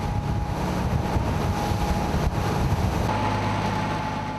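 Strong wind and high waves beat beside a boat at sea during a missile test trip, a loud, continuous roar of gusting wind noise and churning water with no talking.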